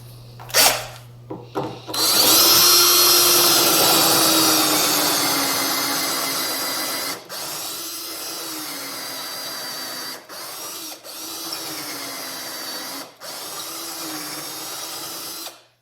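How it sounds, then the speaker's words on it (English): A power drill whirs up and bores steadily into wood for an end table for several seconds, its pitch dipping under load, then pulses in a few shorter bursts with brief stops. "now when I drill, we'll take it in there and it'll stop about 1 1/4 inches"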